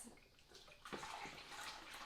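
Water pours into a homemade multipurpose cleaner mixture, a faint, close splashing that grows fuller and steadier partway through, alone without talk.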